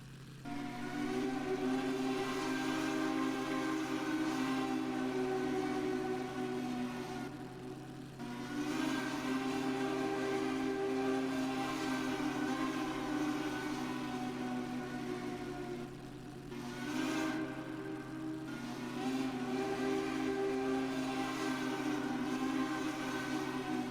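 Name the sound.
Southern Long Bell 3-chime train whistle in a video game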